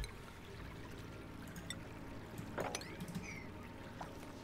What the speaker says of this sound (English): They actually added like water sounds. I kind of like it. It's like a waterfall.